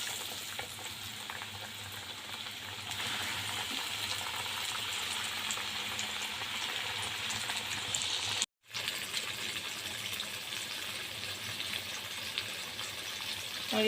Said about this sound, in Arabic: هحمرها بقى